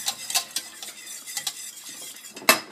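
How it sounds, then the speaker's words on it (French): A spoon scrapes and stirs a thickening sauce in a pan in a home kitchen, with repeated irregular strokes and light clinks against the metal, close and fairly clear, with no talking. "je vais mélanger encore un petit peu. Vous voyez, elle s'épaissit la sauce"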